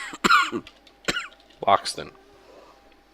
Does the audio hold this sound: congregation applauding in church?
no